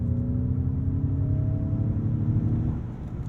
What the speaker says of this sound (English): let's hear what full throttle sounds like with propulsion sound on